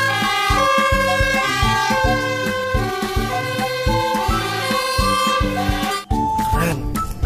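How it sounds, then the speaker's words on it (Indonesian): A loud, blaring fire truck horn and siren tone pulses in a repeating pattern, close by, then cuts off briefly near the end. "Wih, ada mobil pemadam kebakaran."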